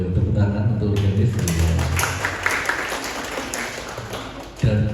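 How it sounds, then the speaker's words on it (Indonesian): Applause for the organist at a Christmas Mass in a Yogyakarta hospital hall: a sustained wash of clapping from a congregation, steady for several seconds, with voices murmuring underneath and a brief loud knock near the end. "tepuk tangan untuk organis"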